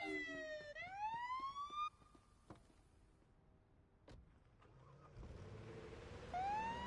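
A police patrol car's siren wails in rising and falling sweeps, cuts out, and after a quiet stretch with a couple of clicks and some rumble it starts up again.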